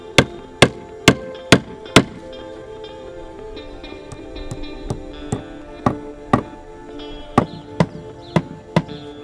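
Shade fabric is tacked to a wooden greenhouse frame with a run of sharp, close hammer-like taps, five quick strikes, a pause, then a looser series of single hits.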